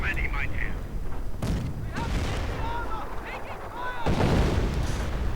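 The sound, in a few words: artillery fire in Company of Heroes video game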